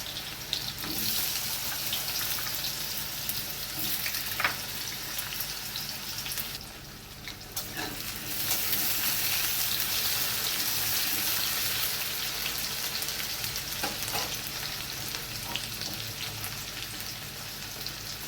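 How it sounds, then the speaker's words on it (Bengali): Steamed elephant foot yam pieces frying in hot oil give a steady, close sizzling hiss that runs throughout, dipping briefly midway before resuming at full strength. "তেলটা গরম হয়ে গেছে, আমি দিয়ে দিচ্ছি ওলগুলো"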